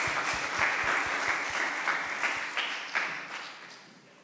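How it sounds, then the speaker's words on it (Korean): A congregation claps together during a church worship service at an air force base, a dense, steady round of applause that fades out toward the end, with no voices over it. "우리 주님께 영광의 박수 올려드리겠습니다"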